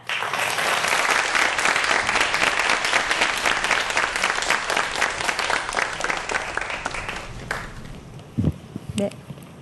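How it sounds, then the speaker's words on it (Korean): A studio audience at a Korean science lecture broadcast welcomes a medical school professor with loud, dense applause that fades out after several seconds, followed by a few footsteps and light knocks. "김주한 박사님 큰 박수로 모시도록 하겠습니다"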